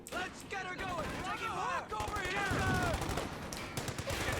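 Machine gun fire in a World War II strategy game with Axis and Allied sides rattles in rapid bursts, with other gunshots mixed in, while a commentator's voice talks over the action.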